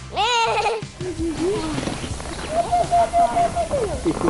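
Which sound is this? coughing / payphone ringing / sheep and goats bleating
sheep and goats bleating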